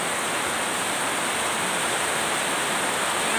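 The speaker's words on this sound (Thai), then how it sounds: "ฝนตกค่ะพี่น้อง" Heavy rain pours down in a dense, steady hiss, an even wash of noise with no breaks or voices over its short span.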